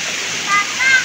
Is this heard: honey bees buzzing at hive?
no